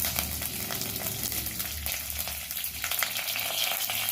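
Dried red chillies and curry leaves frying in hot oil for okra-tomato gravy, a steady dense sizzle crackling throughout at close range with no voices.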